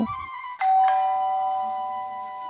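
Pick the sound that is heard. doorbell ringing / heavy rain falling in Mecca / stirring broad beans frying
doorbell ringing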